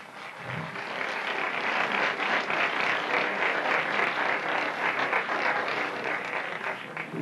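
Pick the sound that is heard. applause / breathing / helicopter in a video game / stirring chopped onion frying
applause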